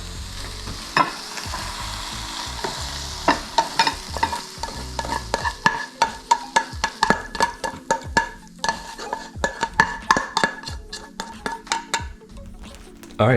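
Eggs cook in a pan while a utensil stirs and scrapes repeatedly, giving a rapid series of loud clacks over a continuous sizzle, with a bit of faint voice underneath.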